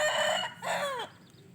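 A fighting-breed hen calls out twice in quick succession, loud and close, a drawn-out squawking cluck fading at the end, with no speech.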